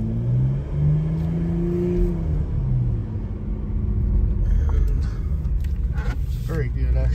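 Porsche Macan GTS rolls along on a test drive after a brake replacement, its engine giving a steady low rumble that rises slightly while a person talks over it inside the cabin.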